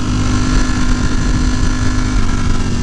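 A Ducati Panigale V4S motorcycle engine drones steadily at high revs, loud and close, its continuous roar holding without pause under throttle during a wheelie attempt.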